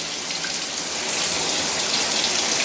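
A waterfall showerhead sprays a dense, steady rain-like hiss of water drops onto a surface, close and continuous with no talk.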